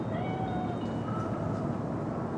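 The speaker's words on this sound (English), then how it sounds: "Chill, just a cat." In Cyberpunk 2077, a cat gives a drawn-out, wavering meow that rises and falls, heard clearly over a steady background ambience with no talking.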